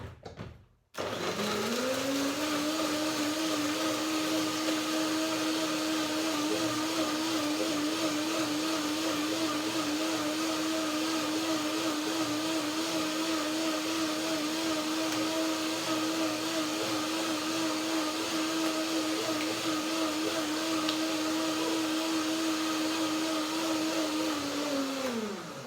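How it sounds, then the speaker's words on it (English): A blender whirs continuously, breaking down nuts, bananas and water for a macadamia cream, a loud steady motor drone with a slightly wavering pitch that runs alone for about 25 seconds before cutting off. "So this was the first blending to break down the nuts."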